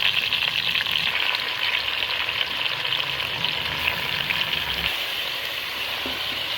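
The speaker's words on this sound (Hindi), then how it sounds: "गोश्त ऐड करके अब हम इसको प्याज़ों के साथ अच्छी तरह भूनेंगे" Beef pieces fry with browning onions in a pot for nihari, a loud, continuous close-up sizzle with a dense crackle that holds steady throughout, with no voices.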